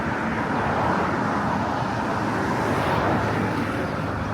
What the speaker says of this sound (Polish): Teraz akurat samochody jadą.